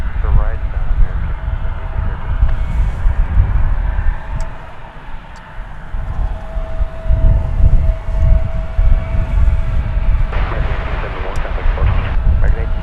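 An American Airlines airliner rolls for takeoff on runway 36 right at DFW, a heavy low rumble building and holding steady, with radio voices talking over it.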